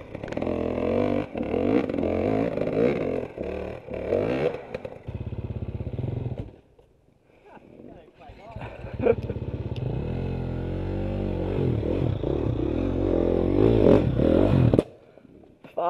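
Four-stroke dirt bike engines revving and labouring on rough technical trails, loud and close with a brief drop near the middle, rising again into sustained throttle roar and clattering.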